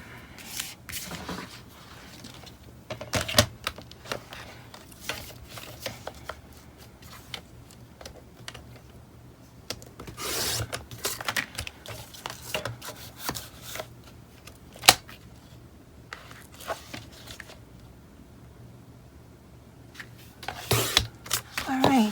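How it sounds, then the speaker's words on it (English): Scissors cut paper for a DIY bullet journal using Happy Planner products, making scattered crisp snips and rustles close by, with a few louder bursts and quiet pauses between. "So again, we're going to cut it one more time."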